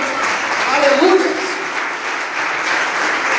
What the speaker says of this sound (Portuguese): Você pode aplaudir o Senhor essa noite, aleluia